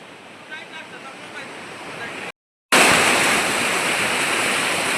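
A mountain stream near Yamunotri, fed by melting snow, rushes loudly and continuously. The roar is moderate at first, then a brief gap, then much louder and closer, a dense steady wash of water.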